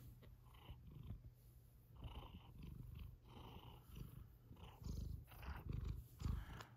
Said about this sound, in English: Listen to her purring.